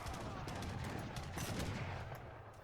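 Heavy cannon fire and explosions in an Age of Empires III free-for-all battle on the Borneo map, a dense, continuous barrage of booms and crackling blasts with no letup, loud and busy throughout.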